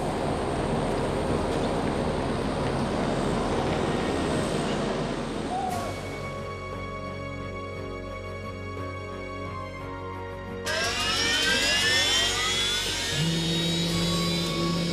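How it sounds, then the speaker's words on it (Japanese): A T-5 trainer aircraft's engine drones loudly and continuously during touch-and-go practice, its tone shifting and brightening as the plane moves. "練習機 T5 のエンジン音を BGM にタッチ&ゴーの訓練が始まった。"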